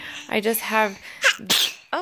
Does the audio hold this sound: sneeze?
yes